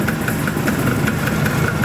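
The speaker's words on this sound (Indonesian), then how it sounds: "Suara mesinnya juga enak." A 1968 Vespa Sprint scooter engine idles close by, a steady, even putter with a faint regular knock throughout, and no talking.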